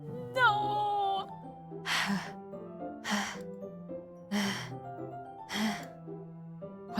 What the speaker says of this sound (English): It's coming from around the corner. It sounds like breathing.